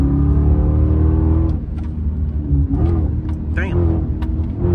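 A Chrysler 300C rumbles through its aftermarket exhaust, a loud deep idle that drops and then swells in a couple of revs, with people talking and exclaiming over it.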